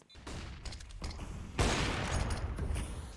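Rapid bursts of gunfire in a Counter-Strike match, loud clustered shots and rattling volleys, busy and dense through the final half.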